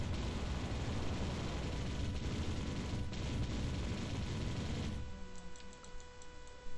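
Gunfire in the video game ARMA 3 comes as a dense, loud burst of rapid shots that runs for several seconds, then cuts off abruptly and leaves a quieter tonal hum.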